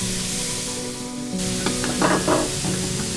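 A kilo of shrimp stir-frying in a pan as fish sauce goes in, a steady hiss swelling into a louder burst of sizzle with stirring scrapes, close and without talk.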